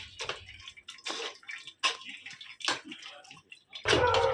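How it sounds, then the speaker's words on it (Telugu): Water splashes and sloshes as it is poured over tomatoes being mashed by hand for tomato rasam, coming in several uneven bursts with a louder, fuller pour at the end. "ఇలా వాటర్ వేసుకుంటుంటూ మొత్తము మ్యాష్ చేసేసుకోవాలి"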